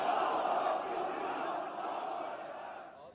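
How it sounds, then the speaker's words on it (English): A huge crowd at Hagia Sophia in Istanbul, praying with Erdogan, produces a dense, sustained murmur of many voices chanting together, steady and fairly loud before fading slightly at the end. "And a huge crowd prayed with him."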